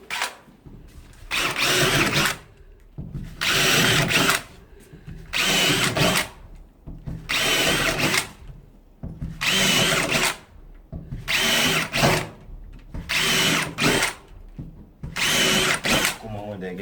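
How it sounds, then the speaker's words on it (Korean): A power drill bores holes through a wooden interior partition for a powder room, with repeated loud bursts of whirring, each lasting about a second, separated by short pauses. "일정 간격을 띄워주고 두 개를 타공을 하겠습니다"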